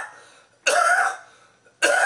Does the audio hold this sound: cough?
yes